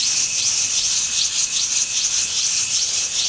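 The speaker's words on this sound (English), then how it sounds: "Get some 80 grit sandpaper. All you're going to do is just go in circles until all of that shiny stuff is off." Steady, loud abrasive rubbing of 80 grit sandpaper worked in circles over a Nissan 350Z brake pad to deglaze it, a continuous hissing scrape with a gentle repeating swirl and no voices.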